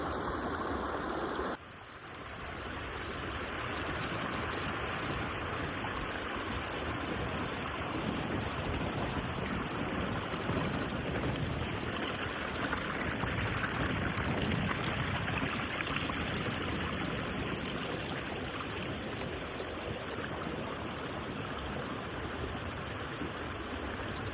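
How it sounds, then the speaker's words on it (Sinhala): Steady rushing of a flowing stream in Ohiya, Sri Lanka, broadband and continuous, fairly close, with no voices; a brief dip near the start before the water noise settles in. "අපි යමුද මේ සුන්දර දිය ධාරාව චුට්ටක් බලන්න"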